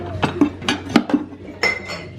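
Dishes and bowls clink and clatter in a sink while the mess from lunch is being cleaned up, with a series of close, bright knocks in an uneven rhythm.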